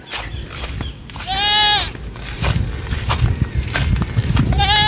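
Goats bleating outdoors on a hot day, two wavering cries close by, one early and one at the end, over rustling, footsteps and low background noise, with a voice speaking briefly.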